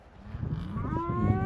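Cattle moo in a ranch pen, a close, drawn-out bellow rising in pitch over a background of shuffling and other lowing, with no talk.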